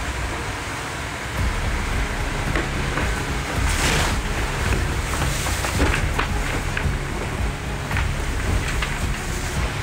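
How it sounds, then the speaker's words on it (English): A sailing race yacht in the Vendée Globe crashes through mountainous ocean waves in a storm, with a constant loud roar of wind and spray and repeated surging water impacts throughout. "There are mountains of waves."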